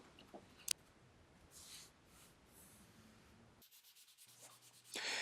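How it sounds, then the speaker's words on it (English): Soft, faint brushing strokes of sanding sealer across a wooden guitar fretboard, steady and quiet, with a light tap near the start. "I'll brush it over the surface of the fretboard,"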